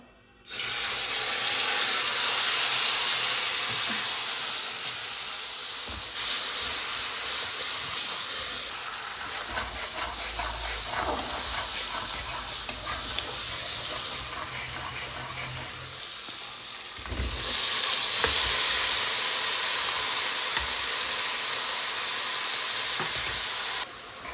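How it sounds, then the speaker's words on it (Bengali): Bay leaves and ground spice paste fry in hot oil, giving a steady loud sizzle and hiss that continues unbroken, with a brief scraping stir partway through. "আর এর সাথে তেলের ভিতর দিয়ে দিচ্ছি তেজপাতা, আর এখানে দিয়ে দেবো মশলাটা"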